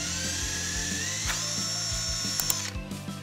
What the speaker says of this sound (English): then I'll get my die grinder out and burr it out very slowly